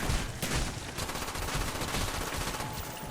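Rapid, dense gunfire from a shotgun in Call of Duty zombies mode on the Nacht Der Untoten map, a continuous loud barrage filling the short stretch without speech.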